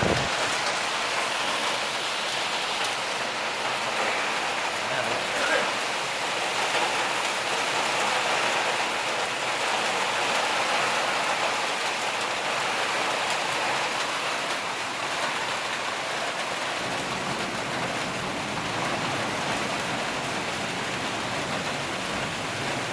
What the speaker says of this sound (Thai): ตอนนี้ฝนตกคม11นะครับผม